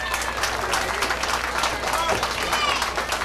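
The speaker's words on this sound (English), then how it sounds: "Let's give them a great round of applause." A crowd applauds volunteers at a stew heritage contest award ceremony, dense clapping mixed with crowd noise and some voices over a steady low hum.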